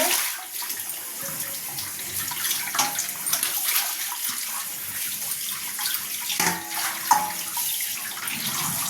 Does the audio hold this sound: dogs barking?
no